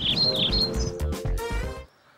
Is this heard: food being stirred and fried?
no